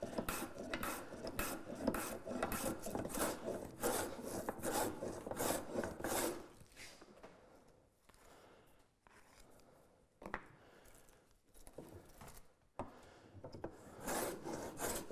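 A hand plane running a groove in wood for door panels: rapid repeated rasping strokes, close and busy at first, then slower, sparser pushes with quiet gaps between, no talking.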